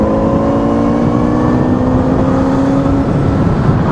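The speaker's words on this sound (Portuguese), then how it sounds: "Você chamou ela no motor, motor ronca, motor berra, e é isso." A Kawasaki Z900RS motorcycle engine drones steadily under load, a loud continuous roar with a sustained tone that shifts slightly in pitch as it holds speed.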